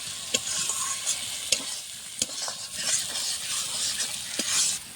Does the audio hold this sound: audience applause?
no